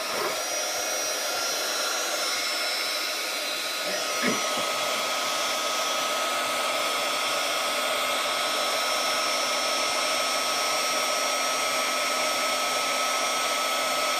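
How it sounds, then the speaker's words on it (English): Heat gun blowing steadily and loudly for the whole stretch, a constant close whooshing roar as it melts embossing powder on a handmade Halloween card, with one faint click partway through. "I'm going to use my heat gun to melt this here."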